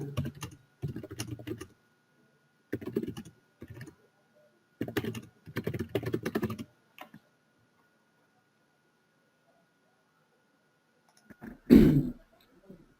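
Bursts of typing on a computer keyboard, rapid clicking keystrokes in several short runs separated by pauses, close and fairly quiet, then a single loud throat clearing near the end.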